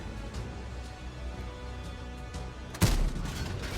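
A single heavy tank cannon shot in an armored combat video game booms out over a steady engine rumble, a sudden loud blast near the end followed by lingering noise.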